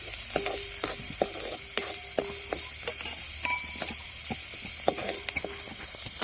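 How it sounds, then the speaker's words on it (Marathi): Onions sautéing for a dry soybean curry, a soft sizzle under repeated clinks and scrapes of a spoon stirring in the pan, with no talking. "परतला ते कांदा हे काय परतू राहिला ना एकदम कलर पण आला"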